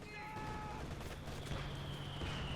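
Gunfire from a Company of Heroes 2 4v4 battle on the Port of Hamburg map, a dense crackle of overlapping shots sustained throughout, with a brief tonal whine early and a steady low hum beneath.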